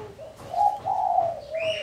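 A zebra dove (perkutut) in a hanging cage gives a smooth, rolling coo of several linked tonal notes, close and clear with no voices.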